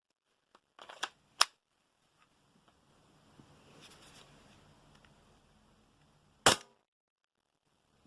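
Several sharp gas blowback shots from a VFC Umarex Walther PPQ airsoft pistol: a quick cluster of cracks near the start, a faint rattle in between, then one loud isolated shot near the end, with no talking.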